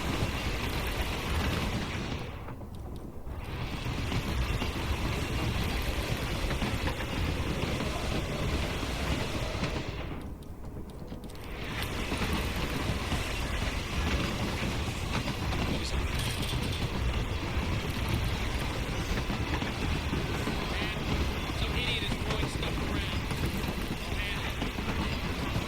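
A train rolls steadily in the video game Hitman III, a continuous rumbling, creaking mechanical clatter close by, briefly dipping twice, with a voice talking faintly over it.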